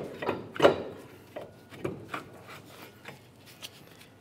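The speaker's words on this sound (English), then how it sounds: "Now let's carefully grab that caliper and slide it off of the brake rotor." Brake caliper being slid off the brake rotor of a 2004–2015 Nissan Titan pickup, a few close, soft metallic scrapes and rubbing clunks, one sharper knock early, then fainter intermittent shuffling.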